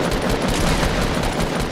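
Continuous dense gunfire in the video game Fortnite, a loud sustained burst of rapid shots filling the whole moment with no talk over it.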